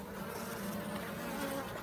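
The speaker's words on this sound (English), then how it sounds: "These bees are working so hard right here." Honey bees buzz steadily at a beehive, a dense close-up drone of many wings holding at an even level throughout with no voices.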